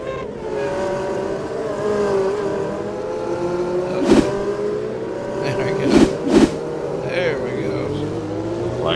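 Outlaw micro sprint race cars drone steadily around the track, their engines swelling with sharp revving surges near the middle and toward the end, loud and close throughout.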